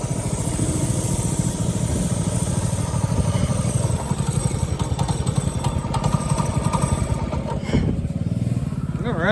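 A single-seater go-kart engine running close by, a loud, rough, rapid putter that holds steady throughout, with brief voices faintly underneath.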